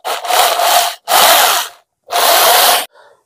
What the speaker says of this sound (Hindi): मैं ड्रिलिंग मशीन से डालता हूँ।